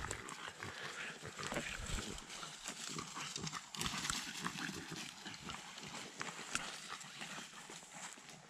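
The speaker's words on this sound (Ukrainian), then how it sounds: "Собаки бігають, як ніколи." Dogs run about nearby in a forest, rapid scuffling footfalls and rustling, irregular and busy over rough ground, fairly quiet overall.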